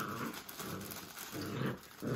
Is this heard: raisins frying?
no